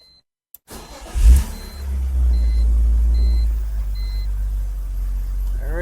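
A BMW 330ci autocross car starts with a quick crank and settles into a loud, steady low idle rumble, heard close, with faint intermittent beeps in the background.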